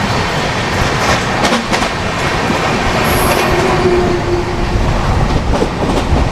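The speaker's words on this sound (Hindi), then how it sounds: "बीना निकलने के बाद देखो अभी एक और हाई कैपेसिटी पार्सल वैन के साथ चल रहा है पैरेलल।" Loud, close rumble of a passenger train running parallel with a slow high-capacity parcel van train after Bina, with steady clattering wheels, rhythmic rail clicks and a faint squeal, no voices.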